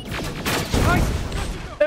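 A turret in the video game Terminator Resistance fires a dense volley of heavy booming shots that blur into a loud rumbling barrage for about two seconds.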